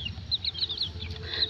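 Chickens clucking up close while being given water, a quick run of short, bright clucks in a brief burst with no talk.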